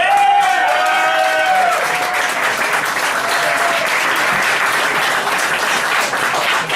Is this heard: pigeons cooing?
no